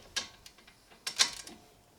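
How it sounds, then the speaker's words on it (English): Wrench ratcheting on a bolt while tightening the front strut of a Volvo S60R, a few faint metallic clicks and a couple of short louder bursts in a quiet garage. "If I can just get this bolt to turn a little bit."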